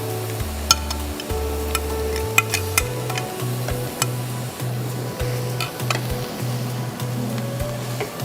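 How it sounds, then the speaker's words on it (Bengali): Cauliflower rice is stirred and fried in a pan, with a steady close sizzle under rhythmic scraping strokes of a spoon and occasional sharp clicks against the pan. "এখন আমরা ফুলকপিটা দিয়ে দিব, যেটা আসল আমরা রাইস বলছি"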